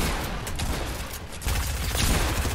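Pump shotgun blasts from Fortnite sound as heavy booming shots amid continuous gunfire and game noise, loud and dense throughout, with a stronger burst near the end.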